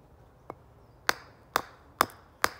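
Five sharp wooden knocks from a handmade bushcraft wooden mallet being test-struck, a lighter tap followed by four heavier strikes spaced about half a second apart, close and alone in a quiet space.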